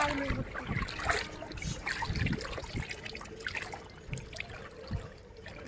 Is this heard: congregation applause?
no